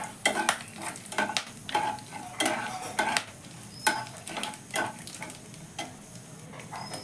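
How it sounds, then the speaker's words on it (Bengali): Whole garam masala (cardamom pods, cinnamon and cloves) sizzles in hot oil in a pan. A soft frying hiss runs underneath repeated sharp, irregular clinks of a utensil stirring against the pan. "এবার দেব আমি একটু গোটা গরম মশলা, 2-4টে এলাচ, দারচিনি আর লবঙ্গ।"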